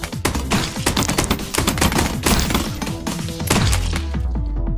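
Heavy bullets rattling off in rapid, chaotic bursts during a Move or Die video game round, many overlapping sharp shots and thuds with crashing impacts, loud and continuous without speech.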